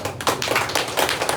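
An audience clapping at a talk, a dense patter of many hands applauding steadily and fairly close for a moment, with no voices over it.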